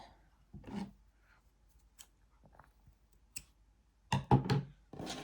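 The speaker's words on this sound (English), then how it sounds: "feed that pink yarn tail through a random stitch up here, and then just snip that" Scissors snip a pink yarn tail on a crocheted Pokémon Weepinbell amigurumi, close and quiet, with a few crisp cuts and small clicks in a hushed room, the strongest cluster of snips near the end.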